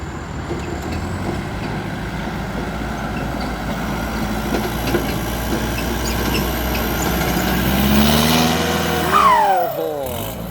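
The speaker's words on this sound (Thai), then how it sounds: "รถไถติดเครื่องแล้ว เดี๋ยวเรามารับชมรถไถดันดินกันต่" A bulldozer's heavy diesel engine rumbles steadily while pushing soil, swelling louder near the end as a rising mechanical whine cuts in.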